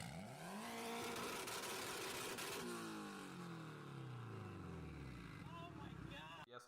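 A Honda S2000 engine revs and accelerates in a Fast and the Furious movie scene, rising then falling engine pitch as the car surges past, with a voice speaking over part of it.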